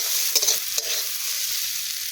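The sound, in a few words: egg bhurji frying and being stirred in a pan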